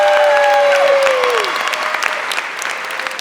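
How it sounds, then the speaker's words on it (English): A high school winter concert audience applauds vocal jazz singers, steady full clapping that fades slightly over a few seconds while a sustained tone trails off underneath. "Give them a round of applause,"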